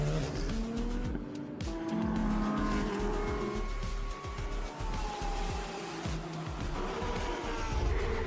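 Race cars running side by side through the first corner during qualifying at the Michelin 6 Hours of Abu Dhabi, with a steady roar of engines, tire squeal and a faint commentator's voice in the mix.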